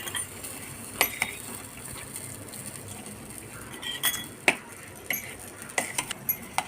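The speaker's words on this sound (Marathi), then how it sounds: "हे पा अशा पद्धतीने सर्व मिक्स करून घ्यायचं आहे" Roasted eggplant bharit mixed with a drizzle of oil and a pinch of salt: soft scraping and mashing with a few sharp utensil clinks against the dish, fairly close, with no talking.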